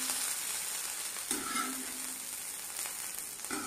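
Fried onion tempering poured into a Palakkad-style red spinach and lentil dal curry gives a steady close sizzle, with a brief louder burst of crackling and hiss as it hits the curry midway and again near the end; no talk.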